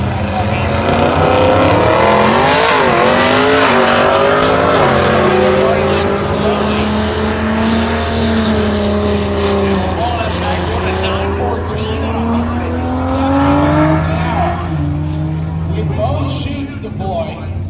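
A BMW drag racing car launches and accelerates hard down the strip, its loud engine roar climbing through gear changes for most of the run, under a commentator's voice.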